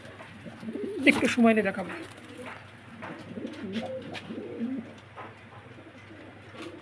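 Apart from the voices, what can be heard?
pigeons cooing, a new rare breed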